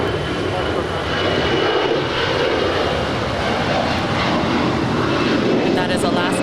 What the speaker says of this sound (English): That is Alaska flight 208 off to Cabo. 40 at Niner, runway 25 left middle in. 10-year-old A320.